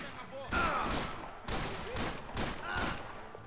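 Automatic gunfire in the video game Max Payne 3, rapid loud bursts of shots following each other over a busy game soundscape, with a voice talking at the same time.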